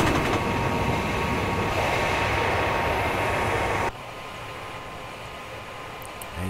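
An ICE 2 high-speed train runs in Train Simulator 2017 on the Karlsruhe to Mannheim route, giving a steady rolling rumble and hiss that drops abruptly to a quieter level partway through, with no talking.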